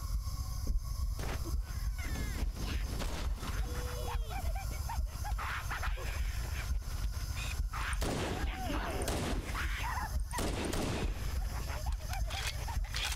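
Scattered bursts of gunfire from Marines crackle through a busy Halo: Anniversary game soundscape, with faint voices and shuffling movement underneath.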